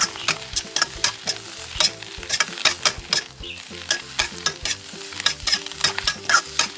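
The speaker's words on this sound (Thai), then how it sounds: "วุ้นเส้นนิ่มแล้วใส่ต้มหอมลงไป แล้วก็ตามด้วยผักชี ผัดคลุกเคล้าให้เข้ากันอีกรอบ" Glass noodles with egg, green onion and coriander are stir-fried in a pan, making a steady sizzle. A spatula scrapes and taps in a quick, regular rhythm up close, and no one speaks.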